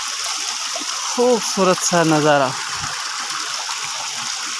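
Clear mountain spring water runs through a shaded forest in Kohistan in the May heat. A steady rushing wash fills the whole clip, with someone speaking over the middle of it.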